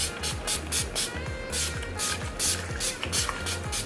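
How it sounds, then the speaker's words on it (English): Skindinavia makeup setting spray misted in a series of short, rhythmic bursts at close range, each spritz a soft airy hiss repeating about every half second. "I'm going to use my Skindinavia setting spray."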